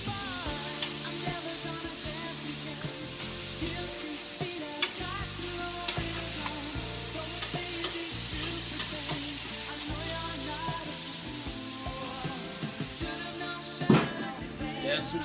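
Steaks and sausages sizzling on a hot barbecue grill: a continuous loud crackling sizzle with tonal hum and scattered pops throughout, and a sharper knock near the end.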